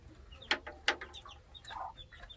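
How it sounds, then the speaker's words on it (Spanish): Ducklings peep near a pond's water, giving a few sharp high cheeps and a softer chirping call in a sparse, close sequence with no speech over them. "Mira, acá hay un patito mojado."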